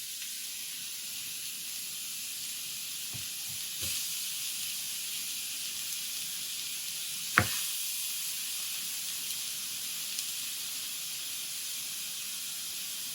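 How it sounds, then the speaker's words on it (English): Beef chunks sizzle in a pan heated to 400 degrees, a soft, steady hiss running throughout with a few faint clinks and taps of the meat being placed. "I'm gonna take these bigger chunks and slay in there."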